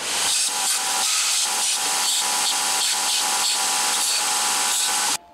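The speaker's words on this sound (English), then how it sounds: "A flap disc is going to be an easy way to do that, or a belt grinder is easy to show you." Flap disc or belt grinder cleaning leftover nubs off 14 gauge steel catapult kit pieces: a loud, continuous, close-up grinding roar with a high whine, slight pulsing as the metal is worked, cutting off abruptly at the end.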